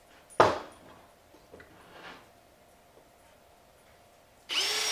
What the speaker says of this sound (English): So I'm going to put a few holes, 1/4 inch holes, between this hole and that hole.